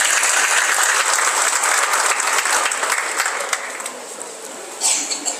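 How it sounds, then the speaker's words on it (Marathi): Loud, dense applause from a village crowd at an election campaign launch rally, a thick roar of clapping that holds strong, eases off slightly, then swells again briefly near the end. "एकदा जोरदार टाळ्या वाजवा त्यांच्यासाठी."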